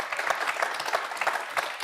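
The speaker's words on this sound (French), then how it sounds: "sous les applaudissements de sa famille qui est venue en nombre ce soir" A family gathered in a game-show studio applauds the winner of a final, a brisk patter of many hands clapping at moderate volume with uneven bursts, close and continuous for the short span.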